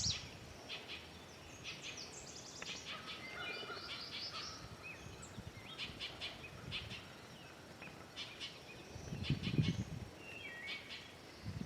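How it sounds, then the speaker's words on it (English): An American redstart sings a series of high, thin repeated notes, moderately faint over a soft outdoor hiss, with other faint bird chirps and insect buzz around it. "The redstart song is a chewy chewy chewy chew, with the downward inflection on the final note."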